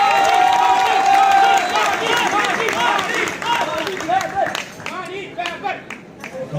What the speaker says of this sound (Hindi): हमारे मानी सर के लिए थोड़ी सी तालियां तो बनती हैं